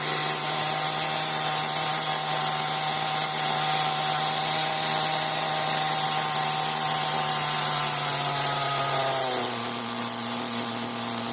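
A small experimental engine runs steadily during break-in on its third heat cycle, a loud continuous high-pitched whine whose pitch drops as the idle is turned down near the end.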